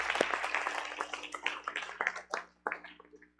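Scattered hand clapping from a church congregation during a livestreamed service, quiet and irregular, a series of separate claps that thin out and fade toward the end.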